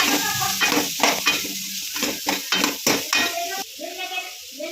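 Spring onion and cabbage being stir-fried for veg Manchurian, rhythmic spatula strokes clanking and scraping in a pan over a loud crackling sizzle, close and busy, easing off toward the end.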